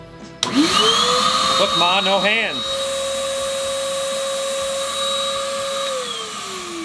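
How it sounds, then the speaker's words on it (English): A vacuum cleaner runs steadily with a high whine and broad roar, switching on near the start and holding for several seconds; in a boatyard, someone speaks briefly over the motor early on. "Now I know I can't run this long term this way because the vacuum's gonna burn out."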